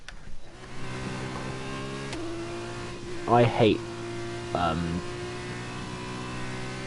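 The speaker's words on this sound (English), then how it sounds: "F2 cars, I really do. I hate their sound" Steady engine drone of an F2 race car in the F1 2021 video game, a continuous tonal hum running throughout with someone talking briefly over it midway.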